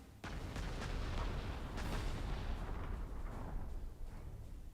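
Bombers and fighters strike artillery in Panzer Corps 2, heard as a sudden loud onset of booming explosions and gunfire that rolls on for several seconds, then fades slightly.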